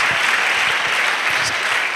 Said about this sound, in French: Let us clap to the Lord Jesus Christ.